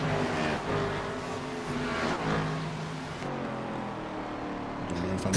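Race car engines roar around the Bathurst track in a Division Élite race, a steady loud blur of several engines with rising and falling pitch as cars pass.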